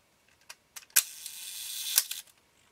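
The shutter mechanism of a Nikon F film camera, with its mirror housing worked on, is operated up close: small mechanical clicks lead into a sharp snap, a brief whirring rush and a second crisp click.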